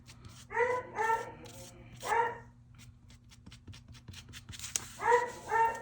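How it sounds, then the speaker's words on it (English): A dog barks in the background of an indoor crafting session, giving a few clustered barks early on, one more a moment later, then another pair near the end, moderately loud with quiet gaps between. "there's a dog barking in the background"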